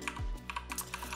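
Keys on a computer keyboard are tapped while entering values in the BIOS of an MSI MEG X570 Ace motherboard, a run of light clicks over a steady hum, with no talk.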